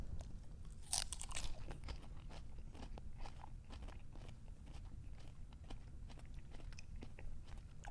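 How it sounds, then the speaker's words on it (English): Someone bites into crunchy lettuce and chews it up close, a sharp loud crunch followed by a steady run of softer, repeated crunching and munching chews, with no talking. "Let's take a bite, my dude."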